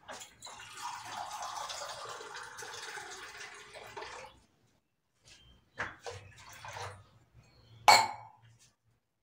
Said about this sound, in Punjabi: ਇੱਕ ਗਲਾਸ ਪਾਣੀ ਪਾਵਾਂਗੇ ਜੀ ਆਪਾਂ